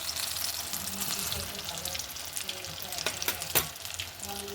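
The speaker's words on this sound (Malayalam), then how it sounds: "ഇത് പഴംപൊരി വറക്കുമ്പോൾ എണ്ണ ചൂടായി കഴിഞ്ഞാൽ ഒരു മീഡിയം ഫ്ലെയിമിൽ ഇടണം" Pazham pori, banana fritters, frying in hot oil over a medium flame, a close steady sizzle and bubbling with a few sharper crackles and spatters toward the end.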